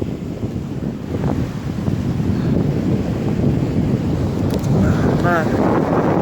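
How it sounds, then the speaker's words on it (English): Strong wind roars across the coast at night during a stormy night-fishing camp, a loud, continuous rumbling gust noise with surf beneath and a brief higher whistle near the end. "It's very, very windy."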